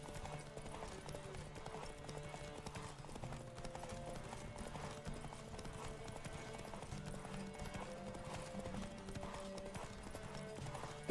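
Rapid rhythmic clip-clop of galloping horse hooves during a horse race in The Witcher 3, steady and continuous over layered game music, with no talk.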